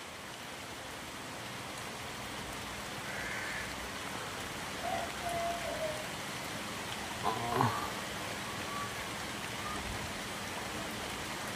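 Steady rain pours down over an outdoor kite-flying session, a dense even hiss filling the whole scene with a few faint brief tones and voices drifting in around the middle.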